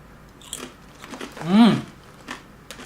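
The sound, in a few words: biting and crunching a crispy Malaysian tapioca chip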